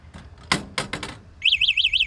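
Anti-theft alarm on a four-wheeled e-bike, preceded by a few quick clicks and knocks, then a loud warbling electronic siren rising and falling rapidly up close.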